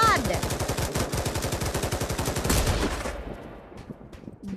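Light machine gun fire in Pavlov VR, a loud rapid unbroken burst of automatic shots lasting about three seconds before cutting off to a quieter tail.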